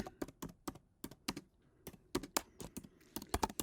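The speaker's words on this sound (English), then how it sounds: "So I'm just going to type out" Typing on a computer keyboard, a close, quiet series of crisp key clicks in uneven bursts with brief pauses between groups of keystrokes.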